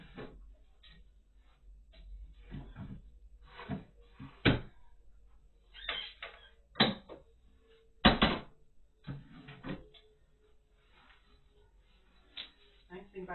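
Wooden drawers in a bedroom are slid open and shut several times, making sharp knocks and thuds at irregular intervals. A person talks between them.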